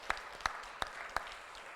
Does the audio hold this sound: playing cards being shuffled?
no